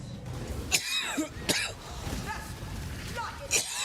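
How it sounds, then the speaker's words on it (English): A man coughs several times in short bursts amid game sounds and his own talk, the coughs standing out over a busy background while playing Path of Exile. "I wish this cough would just go away, bro."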